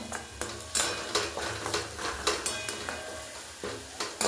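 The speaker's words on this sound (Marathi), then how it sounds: "त्याच्यात अद्रक लसूणची पेस्ट टाकायची आणि परतून घ्यायची आहे" Ginger garlic paste sautéing in a pan, a spatula scraping and clattering in quick repeated strokes over a continuous sizzle, close and lively, with no talking.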